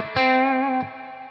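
An electric guitar played through a BluGuitar Mercury amp with reverb sounds a single sustained distorted chord, struck and rung out for under a second, then cut off, leaving a decaying reverb tail.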